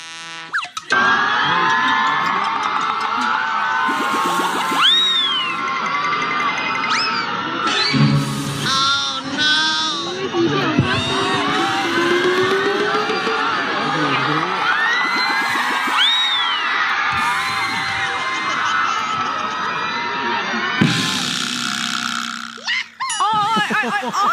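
A studio audience screaming, whooping and cheering at a stunt, with loud high-pitched shrieks rising and falling over a steady crowd roar, punctuated by thumps and bursts of noise throughout.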